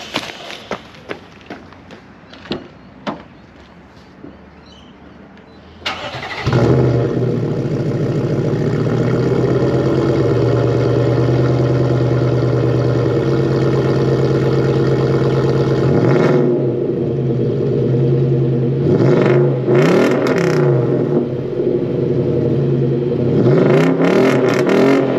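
A Nissan Y62 Patrol V8, fitted with a snorkel and a free-flowing exhaust, rumbles loudly and close as it revs up and holds a steady roar for about ten seconds, then drops and revs in repeated bursts after a few light knocks at the start.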